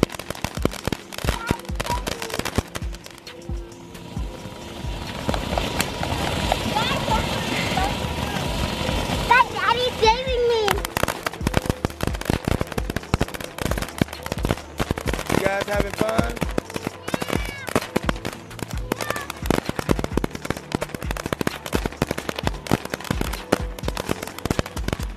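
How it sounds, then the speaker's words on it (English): Firecrackers on the Fourth of July crackle in dense, rapid strings of sharp pops, loud and close, for most of the stretch, with people talking and reacting between and over the bursts. "Oh, more firecrackers."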